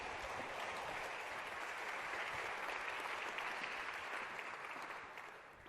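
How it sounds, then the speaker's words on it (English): Audience applause at a Heritage Foundation event, a steady full-room clapping that holds at even loudness for several seconds before easing off slightly at the end. "please give a round of applause"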